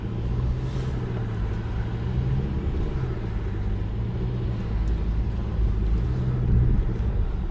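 A 2022 Toyota RAV4 Hybrid cruises over the sand dunes at Oceano Beach, its engine a steady low drone and rumble from inside the cabin with gentle rises in pitch and no talking.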